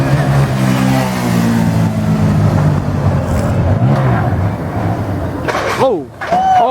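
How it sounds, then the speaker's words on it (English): A motorcycle engine roars and revs steadily while riders pop wheelies outdoors, the loud rising and falling drone running under excited shouting and talk before a brief dip near the end. "My boy popping wheelies out here like it's nothing."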